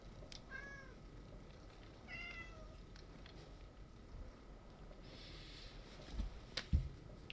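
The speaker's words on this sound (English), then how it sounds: "Got my cat." A cat gives two short, faint meows a couple of seconds apart over a quiet background hum.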